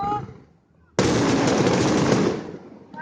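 Fireworks at a celebration in Balikpapan burst in a sudden loud crackling roar after a quiet lull, sustained dense bangs and sizzles filling the air with people talking nearby.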